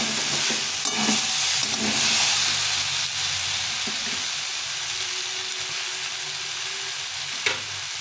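Cauliflower stems fry with tomato in a pan, a steady close sizzle running throughout while a utensil stirs and scrapes at intervals, with a sharper clink near the end.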